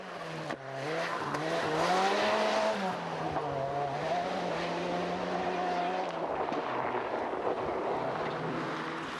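1989 Mitsubishi Galant rally car on a National Rally Championship stage, engine note rising and falling as it drives and shifts, steady and fairly close with a brief gearchange dip early on.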